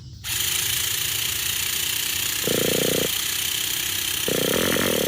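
A Traxxas T-Maxx nitro RC truck with an aftermarket steering servo runs its small engine, buzzing loud and continuous with two brief rising blips of throttle, no talk over it.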